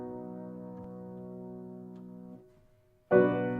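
Piano plays the closing of Chopin's Nocturne Op. 32 No. 1. A sustained chord rings and slowly fades, a short hush follows, and then a loud new chord strikes near the end, with no voices.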